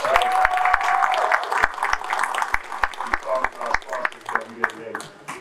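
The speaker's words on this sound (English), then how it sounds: "Give yourselves a round of applause." Audience applause at the Onyx Men of Honor 2024 gala: a crowd clapping steadily with distinct sharp hand claps, loud at first and gradually thinning, with some faint voices mixed in.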